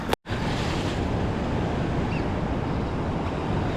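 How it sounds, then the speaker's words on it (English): Ocean waves surging over coastal rocks at a fishing spot, a steady broadband wash of surf and wind filling the whole stretch after a brief dropout at the start, with no voices. "there's some bigger waves coming over these rocks"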